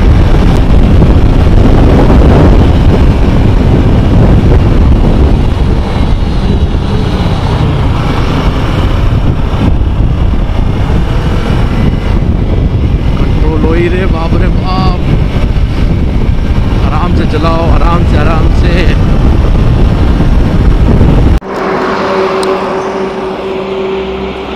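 A Kawasaki Ninja 300 motorcycle ridden fast on a highway, a steady engine drone buried under heavy wind roar for over twenty seconds, with a voice over it before the rushing noise drops off abruptly near the end.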